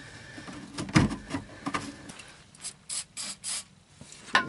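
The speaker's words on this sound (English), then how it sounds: "Spray on that so it goes in easier." Aerosol lubricant sprayed onto an evap line during a fuel pump replacement on a 2000 Chrysler 300M, several short hissing bursts close by, mixed with light handling clatter.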